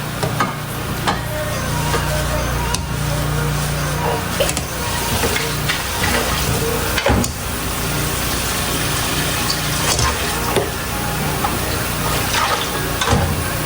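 Kikiam frying in a pan gives off a loud, continuous sizzle and crackle that runs unbroken throughout, close and busy, with occasional stirring noises.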